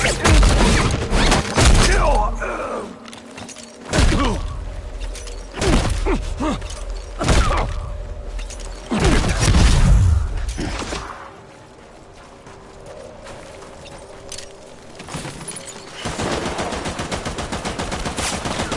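Gunfire in Death Stranding: bursts of sharp shots and rapid volleys come in clusters, loud and close, separated by quieter stretches of rumbling ambience, with the pace picking up again toward the end.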